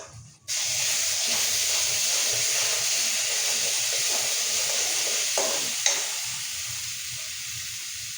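Spinach and tomato paste hit a hot frying pan for palak paneer, setting off an abrupt, loud hissing sizzle that holds steady. A couple of brief scrapes of a spoon come near the end, heard close with no voices.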